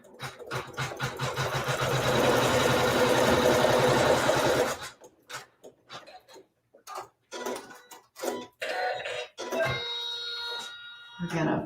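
Home sewing machine stitching a quilt row seam with raw fabric edges even, running steadily for about four seconds, then stopping as a person talks over brief starts and pauses.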